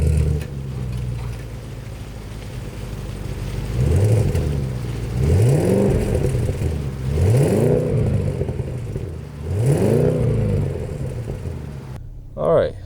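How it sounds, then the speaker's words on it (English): A 2020 Audi S8 with a 563 hp quattro powertrain starts up, then gives four evenly spaced revs, each rising sharply in pitch and falling back over a steady idle before cutting off near the end. "Let's turn this car on."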